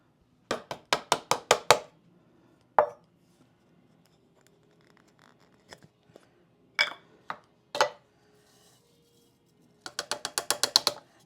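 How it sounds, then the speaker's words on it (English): A kitchen grinder whirs in short pulsing bursts while grinding homemade whole lemon powder, loud pulses at the start and a longer burst at the end, with a few brief pulses in between and quiet gaps. "I'm going to put it into our grinder"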